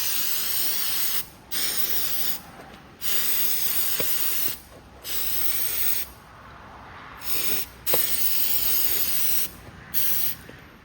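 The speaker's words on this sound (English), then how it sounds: "We're going to spray it down." A sprayer hoses something down in a series of six or seven loud, close hissing bursts, each lasting one to two seconds and separated by short pauses.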